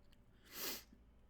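A single short sneeze bursts out at close range during a quiet bedtime story reading, isolated and sharp, with no talking around it.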